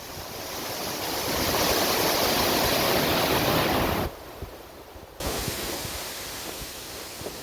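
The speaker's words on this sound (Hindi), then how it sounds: "चौड़ा जलप्रपात है, जो बारिश के मौसम में अपनी विशेष भव्यता पे होता है।" Tirathgarh waterfall in Chhattisgarh in the rainy season, a steady roaring rush of falling water that holds loud and broad, dips sharply for about a second, then returns slightly quieter.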